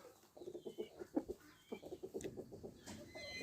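A flock of chickens being fed corn, clucking and squawking in quick, overlapping bursts, moderately close, with a few higher calls from other birds in the background.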